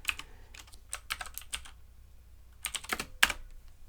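A computer keyboard is typed on nearby in clusters of rapid, crisp keystrokes, with a brief pause midway and a louder final key press, over a low steady hum.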